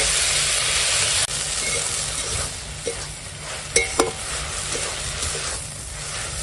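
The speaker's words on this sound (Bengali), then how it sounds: "দেখো এখন শাকটা রান্না হচ্ছে" Kalmi greens (water spinach), salted and cooking down in their own released water, sizzle and hiss steadily in a pan, with a few brief stirring clatters partway through and no talking.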